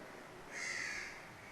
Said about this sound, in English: The crow shall sing,